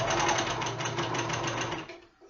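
A sewing machine stitching box pleat drapes, a fast continuous mechanical whir close up, running for about two seconds before slowing to a stop.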